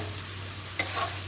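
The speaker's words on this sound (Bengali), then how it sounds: "ভালো করে নেড়ে চেড়ে একটু ভাজা ভাজা করে নেব।" Snake gourd pieces fry quietly in a pan while being stirred, with a soft continuous sizzle and a brief sharp scrape of the spatula partway through.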